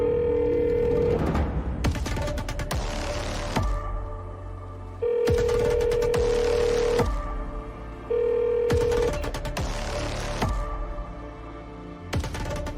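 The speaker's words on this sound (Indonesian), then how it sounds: "Aku telepon Aini dulu ya." A telephone is being dialed and then ringing, with repeated electronic tones and ring bursts coming in clear phrases over a loud, busy backing track, and no one speaking.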